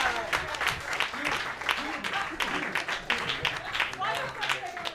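Audience clapping and cheering at a comedy roast battle show in New York, steady dense applause with scattered voices and whoops mixed in throughout.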